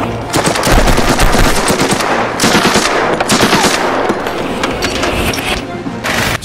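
Film gunfire aimed into the ground, loud rapid bursts of automatic shots rattling densely throughout, with brief gaps between volleys.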